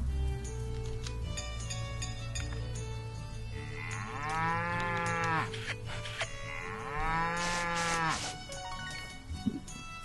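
Cow from the farming game Story of Seasons: Pioneers of Olive Town, lowing twice in long drawn-out moos over steady background game music.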